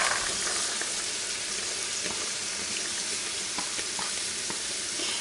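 Vegetables frying with sausage in a pan give a steady, close, continuous sizzle with small crackles and pops throughout, and no talking.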